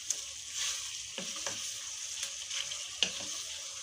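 Chicken shahi rezala being sautéed in a pan, a soft steady sizzle with a few sharp spoon scrapes and clanks as it is stirred, fairly quiet and without voices.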